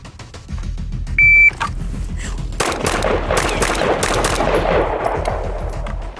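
Pistol fired in a shooting doubles drill: a loud electronic timer beep, then a burst of sharp, closely spaced gunshots rings out at an outdoor range.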